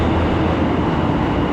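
A train rushes past in Akihabara, Tokyo, as a loud, dense rumble and roar that fills the whole moment with no voices.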